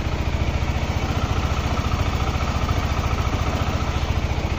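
A Honda CBR motorcycle engine with a high-RPM fault idles while it warms up, giving a steady, rapid, even low pulsing throb that stays close and constant throughout.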